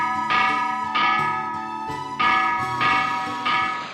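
Ship's bell in the Lunar: Silver Star Story video game, several clear resonant strikes ringing out one after another about every half second to a second, each decaying with a bright metallic tone, with no talking.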